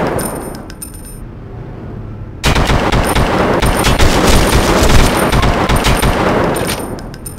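Gunfire in the video game 25 to Life, loud automatic bursts that swell into a sustained rapid barrage after a short lull, close and harsh with metallic clinks between shots; no one talks.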